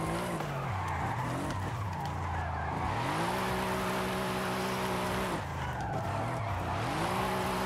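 A car drifting in the video game Forza Horizon 5, on a very difficult track: loud, continuous tire skidding and squealing over a revving engine, with rising and falling pitch as it slides through corners, with no speech.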